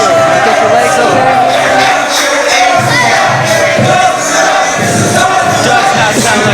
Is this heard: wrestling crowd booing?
yes